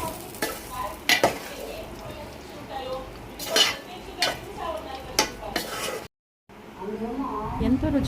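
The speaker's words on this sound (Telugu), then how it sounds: "చుక్కకూర పప్పుని కూడా ఇందులో కలుపుకోవాలి." Cooked dal with chukka greens (sorrel leaves) is stirred into a hot tempering, with spoon clinks and scrapes against the pot in uneven strokes over a soft sizzle, then a brief gap of silence before the stirring resumes.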